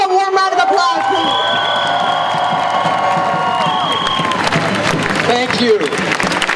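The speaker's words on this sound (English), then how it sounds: "Give him a warm round of applause, please." A large outdoor rally crowd in support of Palestine applauds and cheers for a speaker from the Haiti Action Committee, with steady clapping and loud whoops and shouts of voices throughout.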